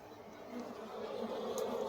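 Apis cerana honey bees buzz in a jungle near a wild nest under a tree, a faint, steady hum that swells slightly with a few closer passes, with soft talk in the background.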